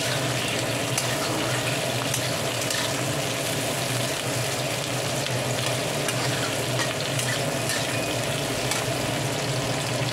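Onions and tomatoes fry together in a pan as a base for fried hilsa with khichuri, a dense, constant, close sizzle that runs evenly the whole time with faint stirring scrapes and no talk.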